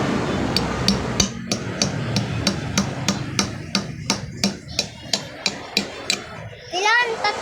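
A nail is hammered with a hammer in a steady run of about fifteen sharp, ringing metallic strikes, close and loud, with a voice talking briefly under the blows near the end.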